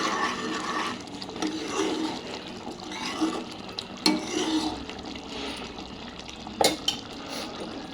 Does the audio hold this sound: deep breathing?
no